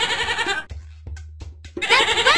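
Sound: goat bleating

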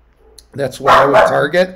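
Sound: neighbor's dog barking

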